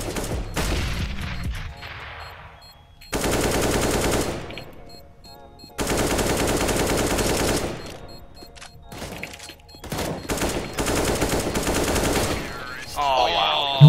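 Rifle and machine-gun fire in CS:GO rattles out in several dense, loud bursts separated by short gaps, with scattered single shots and a final sharp report near the end.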